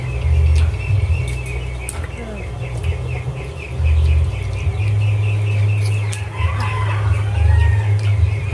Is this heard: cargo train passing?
no